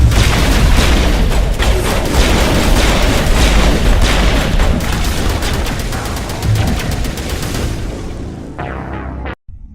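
Heavy combat gunfire from Mass Effect Legendary Edition on PC, dense overlapping weapon bursts and booming impacts, loud and sustained before trailing off into a final clipped rapid volley.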